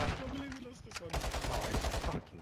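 Rapid bursts of automatic gunfire crack through a Call of Duty Warzone 2.0 match, firing in quick clustered volleys with a pause between, loud and close.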